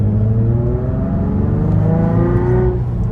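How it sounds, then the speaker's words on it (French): A Nissan 350Z with a 313 hp engine accelerates, its engine and exhaust note climbing steadily in pitch as a loud, smooth drone heard from inside the car, with no talk. "On dirait presque que le moteur est derrière parce que ça chante derrière."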